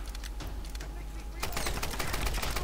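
Rapid gunfire in the Tomb Raider video game, a steady rattle of shots that grows louder and denser partway through, with a voice speaking underneath.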